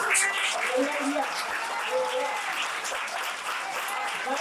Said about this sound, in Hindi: तो चंगाई दिया तो ताली बजाना